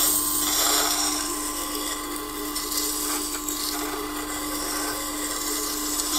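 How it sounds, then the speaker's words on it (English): A Tormek T8 sharpener grinds a knife against its spinning wheel, a steady close-up hiss and rasp of steel on stone over a constant motor hum, with no talk. "Now this gives me the chance to really just sand the knife"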